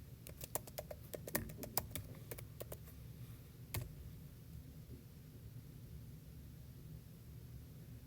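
Quick bursts of keystrokes on a computer keyboard entering a username and password, a cluster of light taps followed by a single later tap, then quiet room noise.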